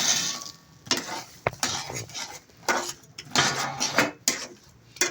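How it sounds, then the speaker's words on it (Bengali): Peanuts tumbled into caramelized sugar in a pan and stirred with a utensil, giving repeated scraping clinks and clatters in irregular bursts, close and moderately loud, with a faint sizzle underneath. "চিনিটা আমার জাল দেওয়া হয়ে গেছে, দেখেন দলা হয়ে গেছে কত সুন্দর। বাদামগুলো এখন আমি দিয়ে দেব।"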